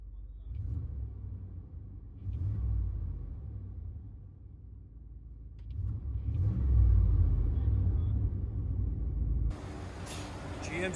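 A GMC Sierra with a 5.7L V8 and a loud aftermarket exhaust, heard from inside the cab, rumbles deep and heavy, swelling in two louder surges before easing.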